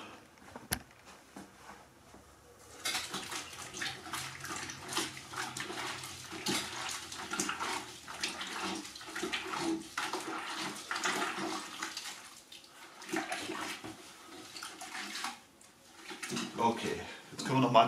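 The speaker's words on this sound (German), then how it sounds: "Und das spülen wir jetzt in dem Eimer wieder aus." Polish is rinsed out in a bucket of water: sloshing and splashing start after a quiet moment and run on in uneven bursts, close by, with a person talking at times.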